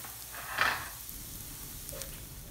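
Sliced onions with salt fry softly in a pan for capsicum curry: a faint, low sizzle with one brief louder stir or scrape near the start.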